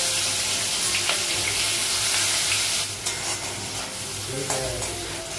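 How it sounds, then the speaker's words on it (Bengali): Onions fry in oil with panch phoron, green chilli and bay leaf, a steady close sizzle and crackle with occasional spatula scrapes and stirring clinks running throughout. "পেঁয়াজটা একটু লাল করে ভেজে"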